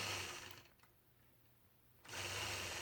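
A quilting machine stitches a melon quilt block design along a ruler, a loud steady mechanical whir that stops briefly for about a second before starting up again.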